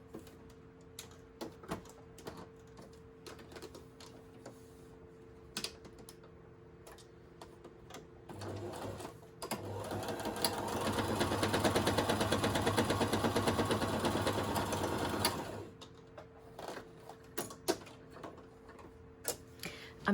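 A sewing machine runs in a steady whirring burst of rapid stitching for several seconds, stitching a seam binding ruffle, framed before and after by scattered clicks and light handling taps, close and moderately quiet.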